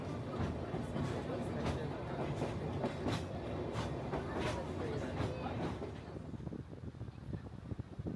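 The Sagano Romantic Train rolls through Hozu Gorge near Kyoto, wheels clacking rhythmically over rail joints in a steady run of beats under wind rumble, the cars passing fairly close before the clatter thins out.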